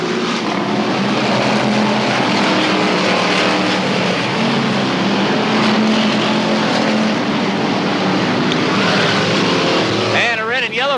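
Hot stock cars race around Cowtown Speedway in 1990, their engines a loud, continuous roar of several cars together that swells and fades slightly as they circle the track.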